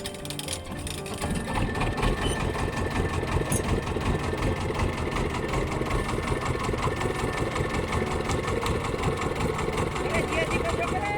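A large engine-powered boat on the Narmada river runs steadily, its motor chugging in a dense, continuous rhythm from start to end, loud and close, with some voices faintly mixed in.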